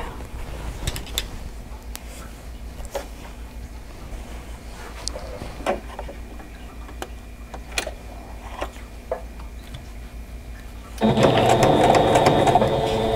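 A domestic sewing machine stitches quilt top seams at a quarter-inch allowance, a steady close mechanical whir that starts abruptly near the end after some quiet handling clicks and pinning sounds.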